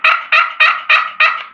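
A Primos turkey box call worked by hand gives five evenly spaced, loud, raspy yelps in a steady rhythm, close and clear with nothing else in the background.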